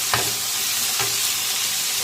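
A paste of onion, ginger and garlic is sautéed in oil, with a steady loud sizzle broken by two distinct scraping strokes of a spoon stirring the pan.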